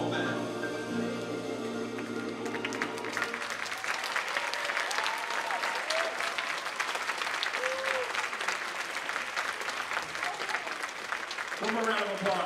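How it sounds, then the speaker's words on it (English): Sustained audience applause at a high school spring band concert, a dense steady wash of clapping that starts as the band's last notes fade and carries on to the end, with a few voices mixed in. "One more round of applause."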